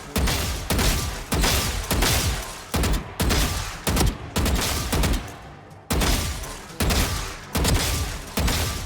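Rapid gunfire in Valorant, a dense stream of loud, sharp shots in repeated bursts with tiny gaps between volleys, close and continuous across the whole stretch.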